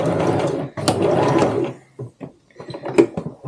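A sewing machine stitches along a tote bag strap in one continuous, close, whirring run of under two seconds. It then stops and is followed by a few scattered mechanical clicks and taps.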